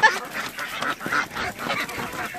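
A group of ducks quacks continuously at close range, overlapping nasal calls in a busy, raucous chorus.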